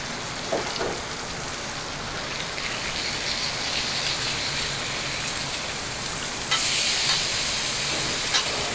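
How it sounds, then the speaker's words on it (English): A pot heating over charcoal or open flames, giving a steady hissing, sizzling wash like rain on a surface, with a louder surge of bubbling toward the end. "Charcoal or open flames. Bring it to boil."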